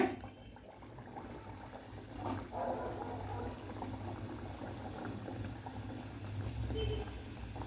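Mangalore buns dough goes into hot oil and fries with a soft, continuous bubbling and light sizzle, moderately close and fairly quiet, with no talking.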